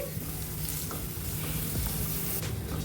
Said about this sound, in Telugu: ఇప్పుడు ఈ పొడిని ఫ్రై చేసుకోవాలండి మాడిపోకుండా ఫ్రై చేసుకోవాలి